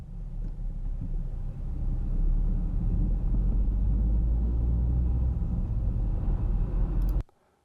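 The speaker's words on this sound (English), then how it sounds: "we start by loading some car noise in, just to give you a sense for that" Steady low rumble of background noise inside a car, played back as a recording, loud and continuous with no talk, then cut off abruptly near the end.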